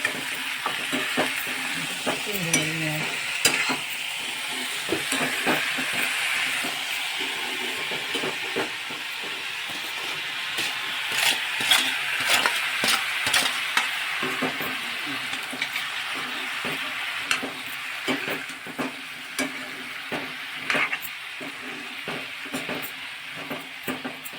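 Leafy vegetable bhaji sizzles in a hot pan in a home kitchen while a spatula stirs and scrapes against the metal, producing a steady hiss broken by frequent clinks and scraping strokes.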